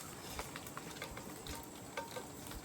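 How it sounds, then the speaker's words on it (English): Smoked ground beef sizzles and spatters in its own hot fat, a continuous crackling fry with scattered pops, close and moderately quiet. "Now that fat is frying that beef."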